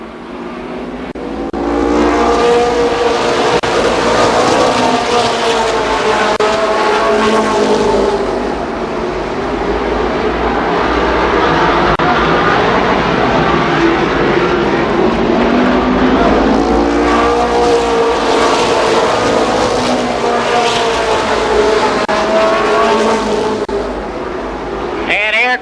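Sprint cars racing at Columbus Motor Speedway roar loudly and continuously, engines rising and falling as the pack circles the track, with a speaking voice heard over the noise.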